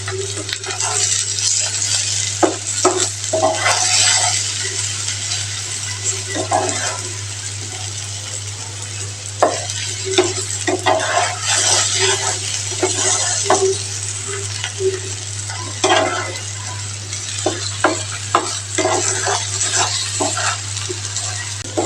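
Potatoes seasoned with turmeric and salt frying in a pan, with a steady sizzle under repeated scraping stirs and occasional clinks of the spatula, close and fairly loud throughout with no talking.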